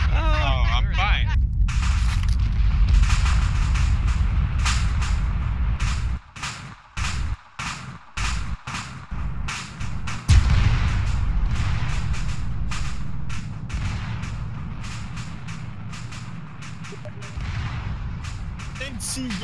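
Explosions and artillery fire in a World War II video game set during the liberation of Bornholm, heavy booms and rapid cracks continuing throughout at close range, with players' voices talking over the battle.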